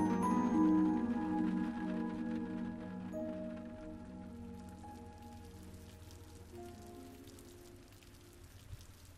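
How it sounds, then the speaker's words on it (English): Soft, steady rain patters in the visual novel game Witch on the Holy Night, under sustained background music that fades as the rain continues alone. "The teacher's voice and the sound of rain were vaguely distant."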